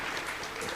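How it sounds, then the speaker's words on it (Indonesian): Enthusiastic applause from a group, likely students at an Islamic boarding school lesson, with steady dense hand clapping filling the whole short moment. "Tepuk tangan semangatan."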